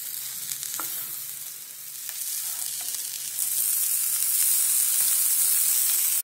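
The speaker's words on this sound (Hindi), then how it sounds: "बैंगन को मसाले में अच्छे से मिक्स कर लिया है।" White brinjal pieces fry in masala in a pan, a continuous sizzle with occasional scraping stir strokes, growing slightly louder toward the end.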